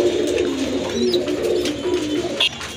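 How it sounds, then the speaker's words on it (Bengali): Soft repeated cooing from a pair of Giribaz racing pigeons of the Rajgolla and Palla lines, steady and close, with a brief sharper call near the end and no talk. "আর এটা হচ্ছে একটা সুন্দরী কবুতরের জোড়া, এটা রানিং কবুতর"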